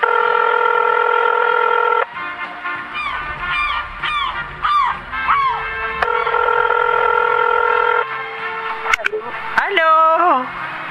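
Telephone keypad tones sound as a number is dialed: a steady ringback-like tone, then a quick series of short beeps and chirps, with a brief burst of electronic tones near the end. No words are spoken over them.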